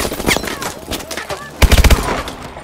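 Automatic weapon fire in Call of Duty Advanced Warfare comes in short bursts, with a loud, tight volley of about six rapid shots near the middle amid other combat noise and voices.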